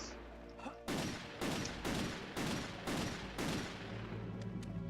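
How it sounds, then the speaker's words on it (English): Rapid bursts of gunfire blast at bats in Castlevania: Legacy of Darkness, about five loud, evenly spaced volleys that fill the clip after a brief quiet start, with no talking. "any fine, upstanding American would have no problem shooting the shit out of a bunch of bats"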